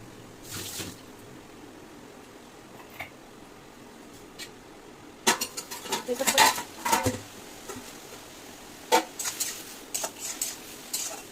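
Kalmi greens with meat being stirred in a pan, brief bursts of utensil scraping and clinking against the metal, loud and close, separated by quieter stretches.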